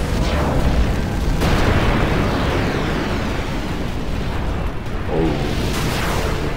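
Ifrit, the fire Aeon, being summoned in Final Fantasy X: a dense, loud rumble of fiery blasts and booms rolls on without pause, with sharper bursts near the start and the end.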